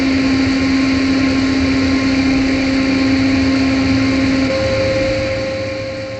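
A vertical milling machine drills at high speed, giving a loud, steady whine with a sustained tone that steps to a higher pitch partway through over a constant mechanical hum, with no talking.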